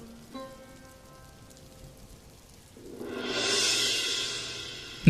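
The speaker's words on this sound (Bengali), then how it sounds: "দাদা, বৃষ্টি তো কোনোভাবেই কমছে না" Heavy cartoon rain swells in after a quiet start, becoming a loud, steady, hissing downpour on surfaces that fills the rest of the scene.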